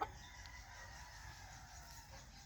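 A brooding hen gives soft, low clucks, faint and close against a steady background hum.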